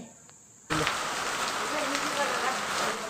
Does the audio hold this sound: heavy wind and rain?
yes